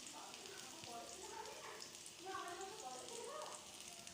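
Chopped garlic frying in hot oil for a Bengali curry gives a soft, steady sizzle throughout, swelling slightly in the second half.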